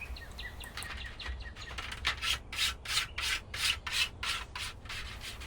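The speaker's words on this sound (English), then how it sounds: "This method of deburring seems safer than doing it vertically." Metal is deburred by hand with a rhythmic rasping scrape, about a dozen short even strokes that grow stronger and more regular toward the end, close and alone over faint background noise.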